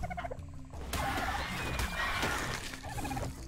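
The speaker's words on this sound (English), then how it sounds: "I hit a bird." A bird in ARK Survival Evolved lets out a loud, rough gobbling squawk that lasts about two seconds over steady game background noise.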